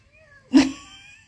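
A small cat gives one short, loud meow up close, which fades quickly into quiet, with no talking.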